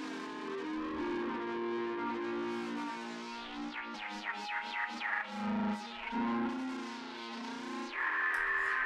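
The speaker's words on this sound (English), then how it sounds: "So that's what the psych sound does. Cracked, distortion." A heavily processed tone runs through the Psych distortion setting of Reason's Audiomatic Retro Transformer, a cracked, gritty, warbling effect with sweeping smeared harmonics that holds loud and steady for several seconds.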